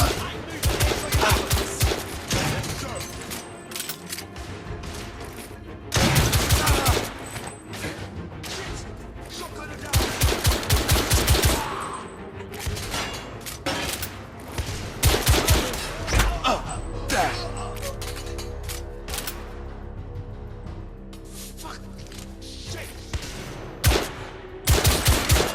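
Heavy gunfire in the video game The Order: 1886, coach gun blasts mixed with rapid bursts and booming shots, loud and dense in repeated volleys with brief lulls, plus thuds and crashes.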